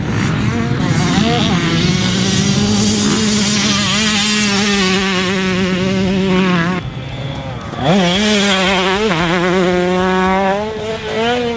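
Two-stroke 125cc motocross bikes, a 2020 Yamaha YZ125 and a KTM 125SX, ride with a loud, steady engine whine that drops off briefly and then revs back up in sharp surges.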